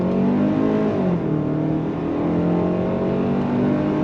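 A 2026 Kia Sportage SX Prestige compact SUV in sport mode accelerates with its 8-speed transmission, the engine note rising steadily and continuously from inside the cabin, loud and without speech.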